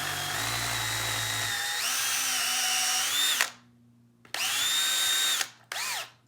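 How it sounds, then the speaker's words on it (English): A power drill bores a hole through a guitar body from the finished side, whining steadily at close range, pausing briefly, then spinning up again in two shorter bursts. "Always drill on the finished side through."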